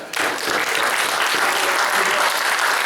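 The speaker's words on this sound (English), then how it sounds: "First, a round of applause for the speaker." An audience applauding a speaker at a presentation, a dense, steady burst of clapping filling the room throughout.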